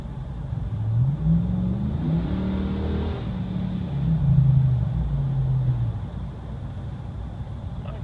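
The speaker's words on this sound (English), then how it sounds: "But I mean, if I goose it, you can hear it." A 2014 Ram 2500 pickup with the 6.4 Hemi V8 and an aftermarket exhaust revs twice with rising, throaty swells over a steady low idle rumble, fairly close and loud.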